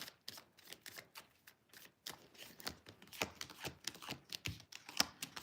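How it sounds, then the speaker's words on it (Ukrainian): Quiet, close riffling and flicking of tarot cards being shuffled, irregular papery clicks with no voices. "мені от тасую карти"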